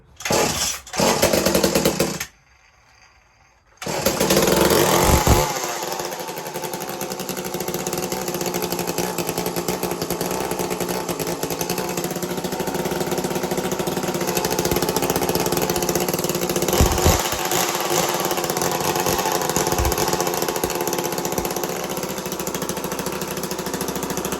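A small engine with its choke pulled down, stuttering briefly, cutting out for a moment, then catching and running at a steady loud rough idle close by.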